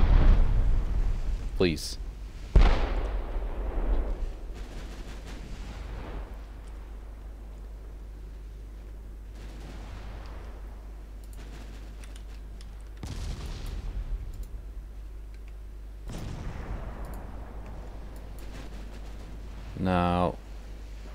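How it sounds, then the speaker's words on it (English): Naval guns firing and shells striking ships in the naval battle game Ultimate Admiral Dreadnoughts, heard as several loud booming blasts with long decaying rumbles spread across the span, with a person talking briefly. "I'm taking big hits. Keep shooting the one you were shooting at."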